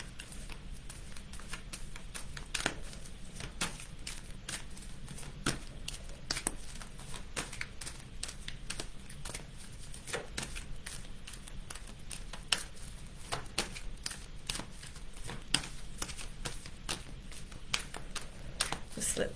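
Tarot cards are shuffled by hand with a continuous run of soft, quick card slaps and riffles, faint and close, with a voice heard intermittently.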